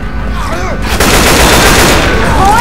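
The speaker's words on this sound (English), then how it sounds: "Okay, shoot the shit out of that thing." Sustained heavy gunfire in a video game battle against a tank, very loud and continuous, with a sharp burst that swells into an unbroken rattle of shots.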